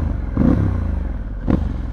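A Harley-Davidson Pan America adventure motorcycle engine starting, a brief clattering crank and catch followed by a low rumbling idle with a second thump shortly after.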